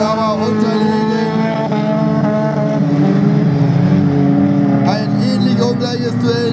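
Autocross race cars accelerating hard off the start at a regional-class superfinal in Spohle, Germany, loud overlapping engine drone rising in pitch, with a commentator talking over it.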